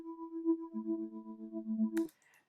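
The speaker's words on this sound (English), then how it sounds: "here we've got a very famous sound. It's called tremolo signal." A tremolo signal synth lead from the Purity plugin plays sustained, pulsing tones with a low second layer joining partway, then cuts off abruptly with a brief click and faint tail; no voices.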